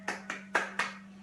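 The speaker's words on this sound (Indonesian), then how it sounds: "Kita berikan tepuk tangan ya untuk kelompok pertama." Four sharp, evenly spaced hand claps ring out close by in a classroom, each a crisp slap with a short decay and no talking over them.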